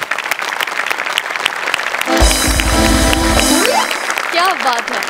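An audience at a comedy show applauds, the clapping rising under continuous voices and laughter. Partway through, a loud musical sting cuts in over the applause, and the voices carry on speaking around it.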